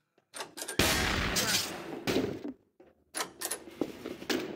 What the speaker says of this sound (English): What's with all the shooting?